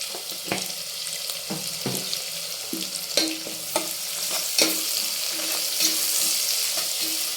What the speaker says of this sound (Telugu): కొంచెం సాల్ట్ వేసుకున్నాం. ఆనియన్ అనేది మనకి త్వరగా వేగుతుంది.